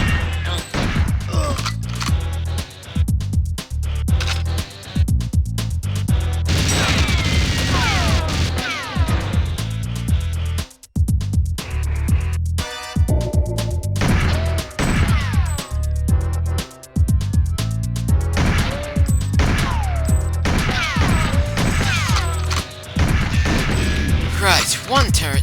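An automated gun turret in the Nintendo 64 game GoldenEye 007 fires loud, rapid bursts of gunfire again and again, with crashing impacts and a voice talking over the action.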